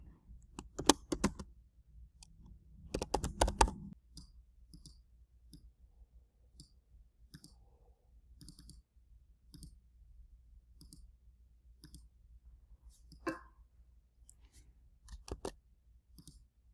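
Quiet keyboard typing at a computer while working on a chart: sparse, soft key clicks scattered throughout, with a couple of brief busier bursts, close and faint.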